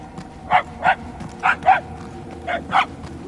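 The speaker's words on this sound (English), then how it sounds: "The barking is getting fainter." A dog in the Guardians of the Galaxy video game barks about seven times in short, sharp yips, grouped in pairs and spaced irregularly, heard clearly over a quiet background.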